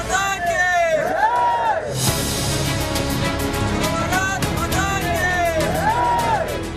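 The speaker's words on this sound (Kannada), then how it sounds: "ಎಲ್ಲೆಲ್ಲೂ ಒಂದೇ ಘೋಷಣೆ, ಒಂದೇ ಜೈಕಾರ. ಅಮರ್ ರಹೇ, ಅಮರ್ ರಹೇ, ಅಮರ್ ರಹೇ." A large crowd mourning fallen soldiers chants slogans in unison, rising repeated shouts and whoops over a dense babble, loud and close, with a brief break where the chant dips before resuming.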